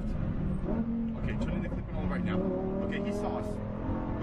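A Lamborghini Huracan Performante roars under throttle on a race track, its engine note climbing steadily and loud throughout, heard from inside the car with a voice talking over it.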